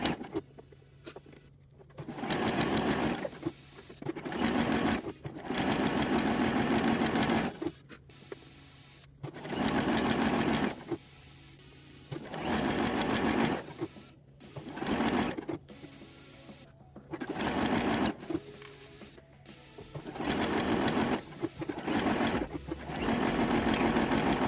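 Sewing machine stitching the folded-over waistband of a G-string, running in repeated bursts of steady, close mechanical whirring separated by short pauses.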